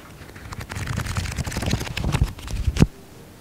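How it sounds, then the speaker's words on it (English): Pages of a book flipped in quick succession make a run of dry papery flicks and rustles up close, ending with one sharper snap before quiet; no voices. "It's book flipping."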